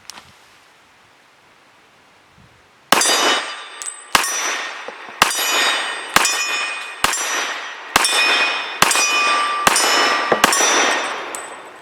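A Tisas Regent PC45 pistol in .45 ACP fires a string of nine shots at a steel target about 17 yards away. Each sharp report comes with a ringing metallic clang, the shots spaced roughly a second apart after a short quiet pause.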